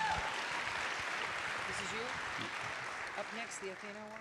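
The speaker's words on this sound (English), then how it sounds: "Big round of applause for everybody." An audience at a live charity dance show event applauds volunteers, a steady wash of clapping from a sizable crowd, with some voices and cheers mixed in beneath it.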